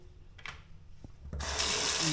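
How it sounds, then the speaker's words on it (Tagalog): Strong water gushing from a bathroom sink tap in a Microtel hotel room, starting abruptly after a few quiet seconds with faint handling noises, then a loud, steady, close rush. "Lakas ng tubig."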